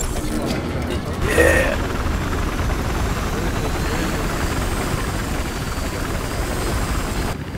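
A helicopter in Battlefield Hardline drones with a loud, continuous rotor and engine rumble, close and steady for the whole stretch, with a brief swell of extra noise early on and no spoken words.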